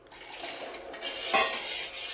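A utensil scrapes and clinks against a pan while sauces are stirred for baby corn manchurian, a couple of seconds of soft scraping ending in a sharper metallic knock.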